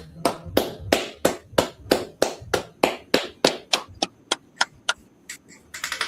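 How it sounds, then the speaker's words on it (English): A single pair of hands claps in a steady, even rhythm, about twenty sharp claps over six seconds, close and fairly loud, with the last few a little lighter and quicker. "Clap it up."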